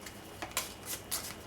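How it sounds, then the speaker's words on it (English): A deck of cards for the Taverns & Dragons tabletop game is shuffled. Three or four quick, soft riffling bursts sound close by and fairly quiet, with no talk. "We'll shuffle up these cards"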